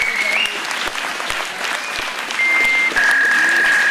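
An audience at a Téléthon 2014 speech event in Saint-André-les-Alpes claps steadily for an association, with sustained tones sounding over the applause.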